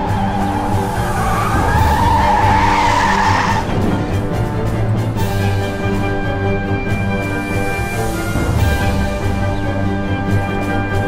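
In the Mafia video game, a car's tires squeal as it brakes hard and skids. The sustained screech rides over steady engine and road noise, with a second shorter squeal near the end.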